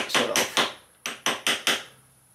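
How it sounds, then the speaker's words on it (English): Hammer strikes on the edge of a sprocket nut on a Yamaha Tenere 700 during a chain and sprocket change, a few sharp metallic blows in two short groups, close and fairly loud with no talking. "we want to hammer this edge a little bit down"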